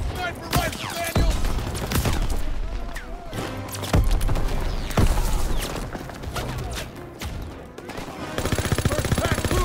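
Rapid bursts of rifle and machine-gun fire crack repeatedly in a World War II battle from the video game Call of Duty: WWII, loud and dense with heavier shots throughout and a denser volley at the end.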